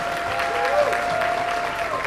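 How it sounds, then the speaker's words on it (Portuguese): A church congregation applauds after the couple kiss at a wedding ceremony, a steady burst of clapping with a faint voice or tone drifting through the crowd noise. "Vamos aplaudir mais uma vez."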